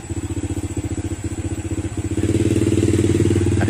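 A motorcycle with a loud, open aftermarket exhaust passes close by, its engine putting out a rapid, throbbing, pulsing rumble that swells louder and thicker partway through, with no talk over it.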